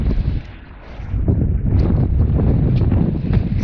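Wind gusting over a sailboat at sea on a passage from Adelaide to Launceston, low roaring buffeting on the microphone that swells after a brief lull.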